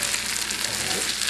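Spicy crab pasta being mixed in a pan, giving a dense, steady, close sizzle of frying with soft stirring texture and no voices.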